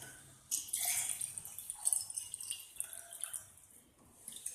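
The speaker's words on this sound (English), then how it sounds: "I'll be filling it half with water." Water poured from above into an empty glass, a bright splashing trickle that starts abruptly, runs for about a second and a half, then thins into softer gurgles and drips.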